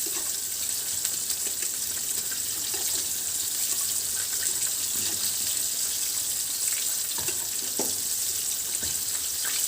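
Tilapia and basaria fish frying in hot oil, giving a steady bright sizzle with scattered small pops and crackles, close and even for the whole stretch.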